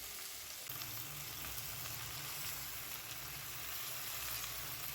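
Washed gongura (sorrel) leaves sizzle in a hot pan for Andhra-style gongura chutney, giving a steady, close frying hiss with a low bubbling rumble throughout and no talking.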